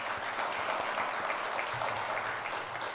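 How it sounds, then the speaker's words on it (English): Audience applause for sponsors at an event, a steady, dense wash of many hands clapping that holds at an even level for the whole stretch. "Let's appreciate our sponsors with a big round of applause."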